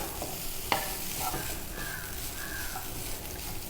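Cumin and coconut dry roasting in a pan without oil, with a soft, crackling sizzle and occasional scrapes of stirring, plus one sharp clink near the start, heard close and fairly quiet.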